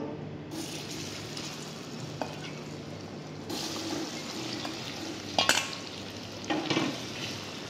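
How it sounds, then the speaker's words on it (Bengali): Cornflour-coated paneer cubes fry steadily in hot oil, a continuous sizzle with occasional stirring scrapes and a couple of brief clinks near the end. "এবার পনিরগুলো ভেজে নেব।"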